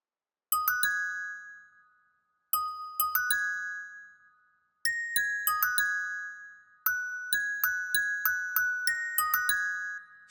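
Bright synthesized bell tones from the Purity plugin in an FL Studio beat ring out in four rhythmic phrases of clustered clicky strikes, each chiming note decaying quickly, with short gaps between phrases.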